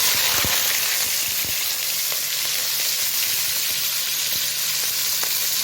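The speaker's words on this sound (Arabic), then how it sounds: "هنبدا التشويح طبعا في الكبد والقوانص بالبصله دي" Chopped liver, gizzards and onion sauté in a pan, giving a loud, even hiss of sizzling with a few soft knocks from stirring underneath, continuous throughout and free of talk.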